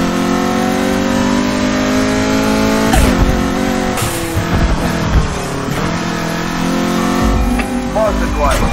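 Mazda MX5 engine in the Need for Speed Heat video game during a daytime police chase, revving loud and near with rising and falling pitch and shifts, under radio chatter.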